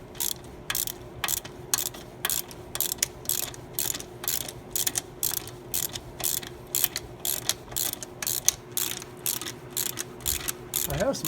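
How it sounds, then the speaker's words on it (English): A ratchet clicks in quick, regular bursts on a Jeep Wrangler JK during idler pulley and serpentine belt work, with close, crisp metallic ticking repeated steadily and brief pauses between strokes. "I have some thumb ratchets too."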